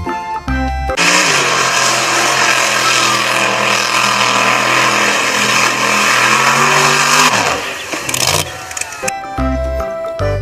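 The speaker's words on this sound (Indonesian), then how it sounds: "Widih, mobil truk monster." A toy monster truck gives off a loud, continuous buzzing whine for several seconds, then sputters down and cuts out, with musical tones before and after, close and filling the foreground.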